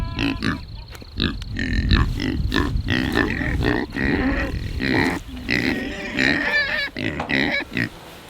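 Pigs grunt and snort repeatedly up close, a busy stream of rough, overlapping grunts with a few squeals.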